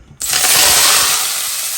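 Hot oil bursts into a loud sizzle in a pan while shrimp are cooked with moringa leaves (brèdes mouroum), starting abruptly after a brief quiet moment and holding steady with a slight fade.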